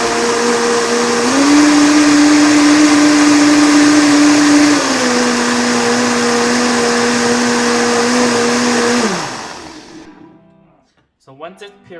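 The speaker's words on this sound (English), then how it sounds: "Then we're gonna puree it until it's soft. We're gonna puree it until it's smooth." Blender pureeing a garlic and onion powder mixture until smooth, a loud steady motor whir that shifts pitch twice before spinning down and stopping, followed by a brief voice.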